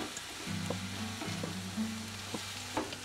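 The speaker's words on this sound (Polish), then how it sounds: "Długo te jabłka muszą się smażyć?" Apple pieces frying in a pan in a camper van kitchen, cooking until golden as for apple pie, with a steady sizzle under a low hum and a few light stirring clicks and scrapes.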